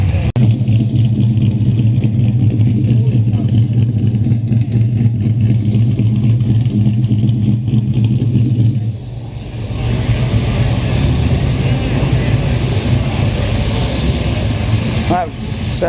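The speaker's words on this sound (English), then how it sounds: "That sound was brought to you by a HK Holden" A deep HK Holden engine rumbles at idle, then revs up with a rising, throaty roar, loud and close, with clattering mechanical noise underneath.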